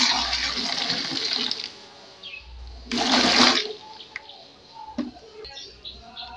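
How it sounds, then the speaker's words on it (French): Heated water poured onto a fabric sofa during a baking-soda cleaning session, heard as a close, loud splashing pour in several bursts with brief pauses between them. "Là, je mets de l'eau qui a chauffé."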